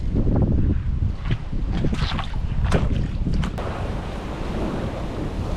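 Strong wind roars and buffets steadily over a fishing boat on the water in bad weather, with low rumbling and scattered gusty bursts.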